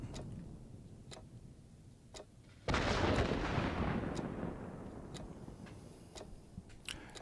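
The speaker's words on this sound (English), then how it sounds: "And the anti-aircraft takes me out." Anti-aircraft gunfire in a WWII flight game while flying a Pe-2 bomber, sharp sparse pops before a sudden loud burst of roaring fire that slowly fades, with scattered distant cracks continuing.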